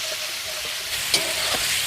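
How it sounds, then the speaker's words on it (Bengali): Marinated chicken fries in white oil and gets stirred, a close steady sizzle broken by a few scraping and clinking stirs, one sharper knock midway. "সাদা তেল ম্যারিনেট করা চিকেনটাকে ভেজে নেব চিকেনটাকে ভালো করে নাড়াচাড়া দিয়ে ভেজে নেব"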